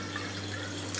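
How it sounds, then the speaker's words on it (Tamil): About 500 ml of water is poured into a cooking vessel in a home kitchen, making a brief steady pouring trickle over a faint background hum. "நான் வந்து இங்கே வந்து ஒரு 500 ml தண்ணி ஊற்றுறேன்."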